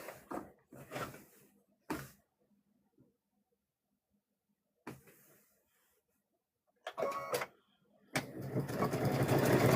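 Sewing machine stitching quilt patchwork for a gnome quilt, short bursts of mechanical whirring separated by quiet pauses, ending in a longer, louder sustained run of stitching.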